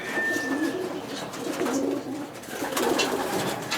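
Racing pigeons in a loft coo softly in repeated low, rolling phrases, close and quiet, with a faint chirp near the start and light rustling around them.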